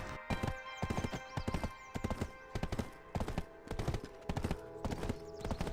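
Horse galloping in the video game Black Desert, hooves beating in a fast, even clip-clop that stays loud and close throughout with no talking.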